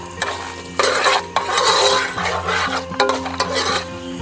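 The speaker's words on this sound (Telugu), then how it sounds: "ఇవి మంచిగా ఫ్రై చేసుకోవాలి" Cumin seeds frying in hot oil with a steady sizzle, while a metal spoon stirs and scrapes the pan in repeated strokes, close and loud with no talking.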